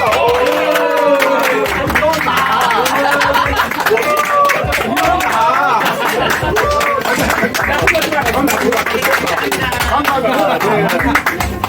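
Guests at a year-end class reunion party clap and cheer loudly together, dense applause mixed with excited voices and chatter, sustained at close range throughout.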